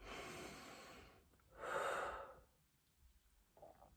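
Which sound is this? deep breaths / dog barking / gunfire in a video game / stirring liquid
deep breaths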